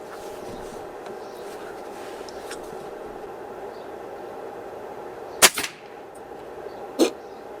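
An air rifle firing 4.5 mm JSB diabolo pellets at 30 metres gives a sharp crack, then a second shot about a second and a half later, both over a steady low background hum.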